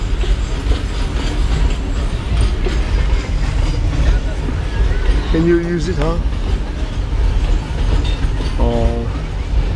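A train running along a railway passes steadily and loudly throughout, with a continuous rumble and rail noise, while people talk nearby.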